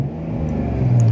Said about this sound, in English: that lovely, smooth, creamy, silky sound you get from a straight six engine